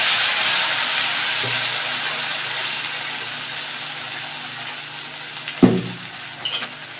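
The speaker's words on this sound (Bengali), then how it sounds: "অ্যাড করে দিয়ে এবার ভালো করে আমি মিশিয়ে নিচ্ছি" A paste of onion, ginger, garlic, green chili and coriander leaves sizzles steadily in a pan for an egg curry, a constant hissing fry with a couple of sharp scraping stirs near the end.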